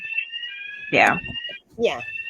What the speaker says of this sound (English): sorry, the alarm's going off again